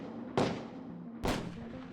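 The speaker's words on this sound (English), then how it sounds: "I hear gunshots." Two sharp gunshots about a second apart, sounding muffled and somewhat distant, each with a brief trailing echo.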